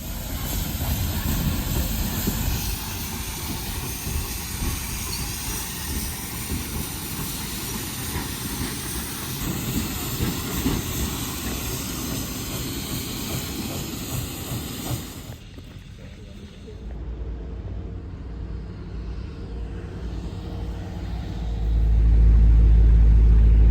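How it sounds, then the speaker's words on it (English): A steam locomotive, Nickel Plate Road 765, couples to its train, hissing and chuffing nearby while metal clanks now and then. The hiss drops away, then a deep rumble swells at the end. "just watch the engine link into the train"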